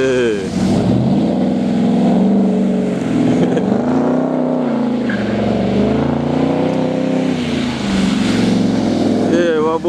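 A car's engine revs hard and steadily while its wheels spin, a loud, continuous roar with shifting pitch sweeps throughout, and voices talk over it.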